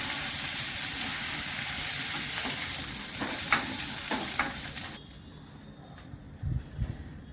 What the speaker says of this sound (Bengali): নুন হলুদ মাখিয়ে চিংড়ি মাছটা একটু ভেজে নেব